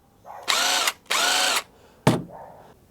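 Cordless 18V, 350Nm impact wrench unscrewing a screw: two loud buzzing bursts close by, then a short sharp final burst with a fading whine, no talk.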